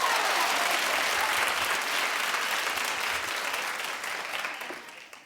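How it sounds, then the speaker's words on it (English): A talk-show studio audience applauds, dense and loud at first, holding a steady roar of many hands before tapering off toward the end. "There's nothing wrong with clapping for Paris Hilton"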